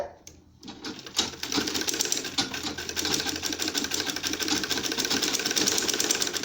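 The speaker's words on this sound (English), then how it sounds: "So sew it round." After a brief quiet start, a sewing machine runs fast and continuously, stitching trim ribbon over a zip on a homemade insulated lunch bag, a close, rapid mechanical rattle with no speech.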